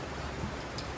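Heavy rain falling steadily on surfaces, a dense continuous hiss with no let-up, close and even, with no voices.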